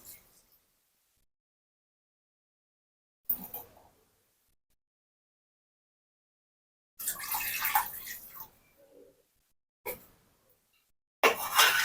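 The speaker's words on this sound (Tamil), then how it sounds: "நான் 1 கிளாஸ் பாஸ்மதி ரைஸ்க்கு 2 கிளாஸ் தண்ணி விடுறேன்" Water pours into a cooking pot for prawn biryani with basmati rice, arriving in several separate bursts of splashing between stretches of near silence.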